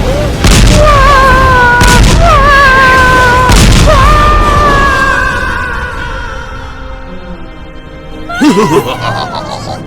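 Cannon blasts in the Super Mario Odyssey video game, several loud booming shots in quick succession with game music and effects ringing over them, then a fresh burst of sound near the end.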